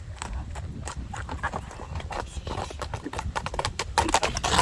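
Hooves of a fast, spirited horse clip-clop in a quick, uneven patter, close and fairly loud, growing slightly stronger toward the end.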